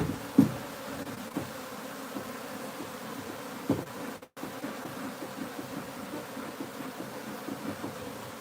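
Honeybees from a wild hive being smoked drone in a steady, close, continuous buzz over faint background noise, with a brief dropout partway through.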